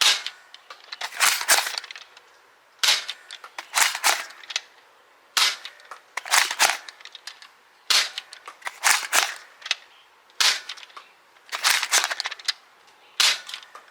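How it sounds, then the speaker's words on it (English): An X-Shot Skins Dread toy blaster fires Adventure Force foam darts in repeated bursts of sharp snapping shots, each volley a few quick cracks, separated by short pauses, loud and close with no talk. "Here we have loaded up Adventure Force, and then afterward, shoot Dart Zone."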